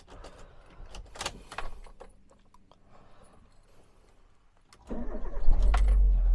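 Key jingle and a short crank as a 2008 Daihatsu Terios TX manual starts up, its engine catching at about five seconds and settling into a steady loud idle close by.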